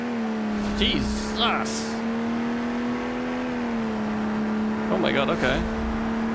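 Diesel automatic car in BeamNG, its engine droning steadily with pitch shifts throughout a drag build run, while a person exclaims loudly over it.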